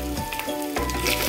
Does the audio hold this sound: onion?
yes